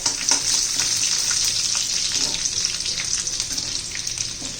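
Cumin and mustard seeds crackle and spit in hot oil for a capsicum dish tempering, a bright close sizzle with a rapid scatter of popping seeds and no talk.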